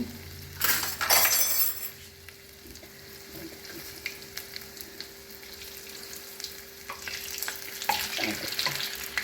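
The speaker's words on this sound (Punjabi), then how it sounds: "ਮੀਡੀਅਮ ਸੇਕ ਤੇ ਆਪਾਂ ਨੇ ਇਹਨੂੰ ਤਲਣਾ ਹੈ" Dahi bhalle lentil dumplings deep-frying in oil over medium heat: a crackling sizzle with occasional clinks, louder bursts near the start and end, no voices.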